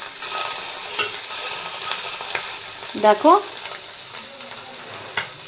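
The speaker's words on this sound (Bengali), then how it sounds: "এক হাত দিয়ে উল্টাতে হচ্ছে মাছগুলো।" Small tangra fish frying in a little oil, with a steady close sizzle and a couple of bright clinks and scrapes as the pieces are turned over partway through; a voice speaks a single brief word.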